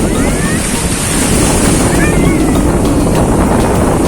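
Waves rush and wash onto a beach at Labu Pandan, Sambelia, Lombok, in a constant roar, mixed with heavy wind buffeting the microphone and faint voices in the background.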